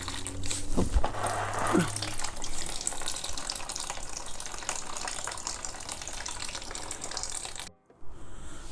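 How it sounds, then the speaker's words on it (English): Old coolant draining from a 2003-2006 Honda CBR 600RR sport bike, a steady splashing trickle of liquid, close and continuous, cutting off near the end. "after it's done draining all the old coolant, make sure put the bolt back."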